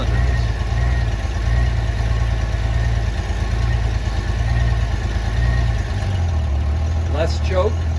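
A 1994 Honda GL1500 Goldwing motorcycle engine runs steadily at a loud, close idle after its first start following a fuel pump replacement, with a low throbbing drone that eases slightly near the end as a voice briefly speaks.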